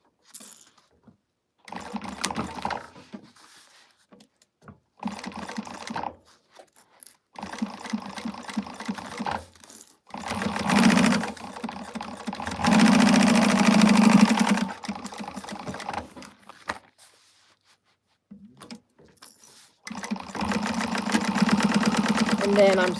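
A sewing machine stitches the quilted lining of a wristlet in several bursts of steady whirring, with pauses between them and a longer, louder run in the middle. A person talks quietly during the gaps.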